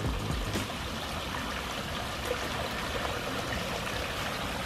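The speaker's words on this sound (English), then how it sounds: "And there's a waterfall." Water splashes and trickles steadily from a small garden pond waterfall, a continuous close-up rushing with no voices.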